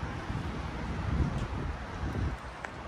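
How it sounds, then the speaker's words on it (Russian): Cold wind blows in a steady broadband rush, buffeting the microphone with low rumbling gusts throughout. "ветер холодный"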